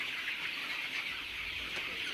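Chickens on a Vietnamese poultry farm fed fermented corn, with soft, continuous clucking and rustling from a flock close by and no voices.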